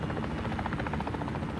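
Helicopter rotor in Call of Duty Warzone, a continuous fast chopping thrum that stays steady and fairly close with no talk.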